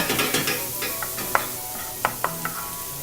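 Diced bacon frying in a pan until browned, a steady close sizzle with several sharp clicks and scrapes of stirring spread through.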